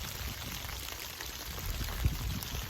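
Water is poured into a container, a steady, faint splashing trickle running continuously without any voices.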